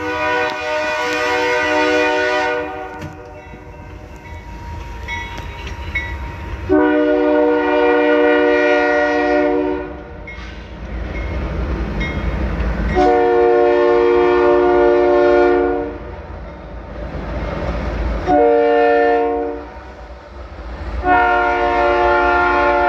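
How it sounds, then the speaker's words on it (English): A freight train passes about 60 to 100 yards behind a house in Louisiana at night, sounding several long, loud, blaring horn blasts over a continuous rumble of the train. "when a train hits its freight train horn, it's loud"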